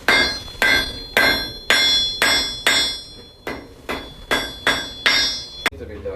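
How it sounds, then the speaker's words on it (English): A blacksmith flattens a piece of metal on an anvil, striking about eleven loud, close, evenly paced hammer blows that each ring briefly with a bright metallic tone before the next. "I'm going to flatten it out a little bit."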